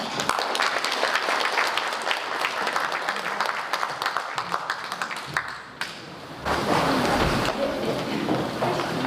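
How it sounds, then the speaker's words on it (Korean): Audience at a National Patriotic Martyrs' Day ceremony applauding a professor after her lecture, dense sustained clapping that briefly drops off then swells again loudly. "다시 한번 열강을 해주신 우리 반혜선 교수님께 뜨거운 박수 부탁드립니다"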